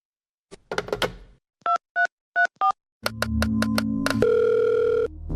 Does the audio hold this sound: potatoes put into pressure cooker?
no